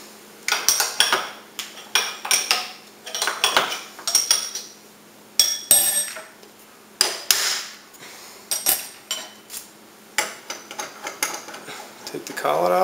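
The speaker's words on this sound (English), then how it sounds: "now we need to take the end mill out," Removing an end mill from a Bridgeport milling machine brings a run of sharp metallic knocks and clanks, about a dozen irregular strikes with ringing tails, close by in a quiet shop.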